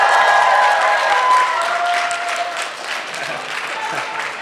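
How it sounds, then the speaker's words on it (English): Audience applause at a FanimeCon 2017 convention panel, a loud dense wash of clapping from a large crowd that fades slightly toward the end, with a voice briefly heard over it. "I legitimately don't know what was being applauded there."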